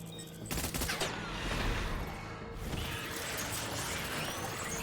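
Rapid gunfire bursts in Death Stranding, dense crackling shots with mechanical clatter running steadily and fairly loud throughout, without any talk.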